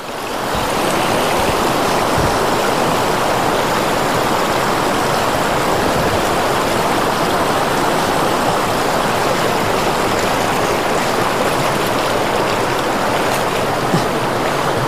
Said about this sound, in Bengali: এখানটা জলের স্রোত অনেক বেশি।